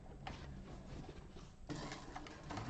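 A Tech 70 sewing machine runs a strengthening stitch through thin vinyl for a bag, giving a faint, steady mechanical whir with a brief pause before the stitching picks up again.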